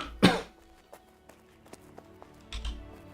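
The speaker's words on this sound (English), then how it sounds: "Sorry for all of the coughing." One loud, harsh cough from a person with a cold bursts out close at the start, followed by quieter taps and shuffles, then a softer throat noise near the end.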